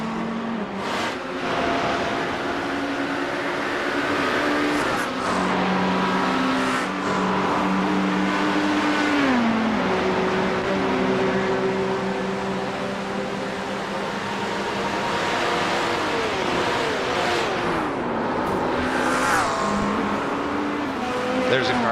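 Race car engines in iRacing's Bathurst 12 Hours whine and shift pitch as cars drive and pass, steady and loud throughout, with voices talking over the engine noise.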